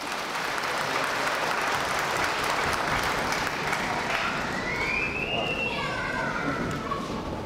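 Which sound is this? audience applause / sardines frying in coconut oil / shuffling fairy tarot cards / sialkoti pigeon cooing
audience applause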